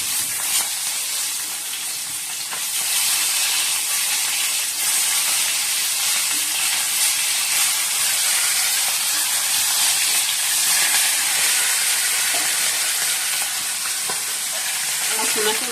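Fish frying in a pan in a home kitchen gives a loud, steady sizzle and hiss that runs evenly for the whole stretch, with no talking over it.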